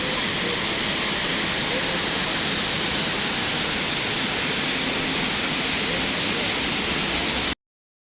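Air Terjun Nglirip waterfall in Tuban, a loud, steady, broadband rush of falling water filling the scene without pause until it cuts off abruptly near the end.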